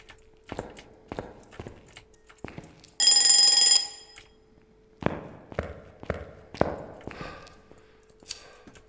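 An alarm clock in the Phasmophobia horror game rings in one loud, bright burst lasting under a second, amid a scattering of sharp knocks and footstep-like thuds over a low steady hum.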